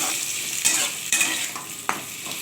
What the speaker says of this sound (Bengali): এই আলু আর এই রাঙা আলুটা, এই দেখুন রাঙা আলুটা একসঙ্গে ভেজে নেব।